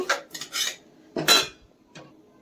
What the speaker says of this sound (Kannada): ಈಗ ಈ ಖಾರನ ಒಂದು ಬಟ್ಲಿಗೆ ಹಾಕೋತೀನಿ